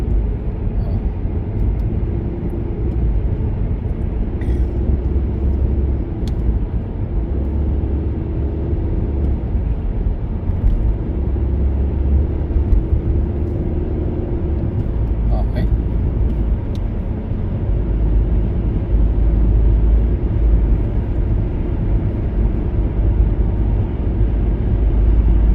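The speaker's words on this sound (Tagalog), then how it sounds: "traffic talaga pag ganitong oras dahil uwian yan" Steady rush-hour road traffic, a continuous low rumble of many vehicles with engines droning throughout, fairly loud and close, while people talk over it.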